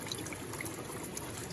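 Fresh, cold water from the mountains of Uttarakhand flows in a steady, even rush that stays fairly close with no pauses and no voices.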